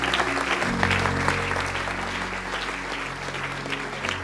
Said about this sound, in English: give these guys a huge hand clap